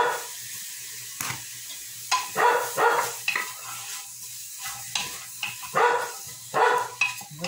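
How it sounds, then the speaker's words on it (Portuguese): Ingredients sautéing in a pan for a simple Sunday lunch: a faint sizzle underneath with intermittent scraping, stirring strokes in uneven bursts, fairly close and quiet. "Deixar ela refogando aqui."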